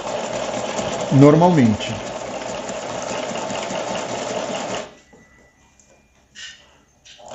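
A domestic sewing machine stitches stretched knit fabric with a steady, fast mechanical whirr for about five seconds, then stops abruptly. A voice speaks briefly over it early on, and a short remark follows in near silence.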